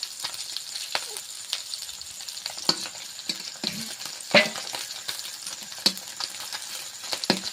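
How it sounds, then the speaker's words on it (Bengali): Fish sizzle in oil with a steady crackle, broken by sharp clicks and scrapes of a utensil against the pan, close by. "মাছগুলো ভাজা হয়ে গিয়েছে এবার তুলে নিচ্ছি"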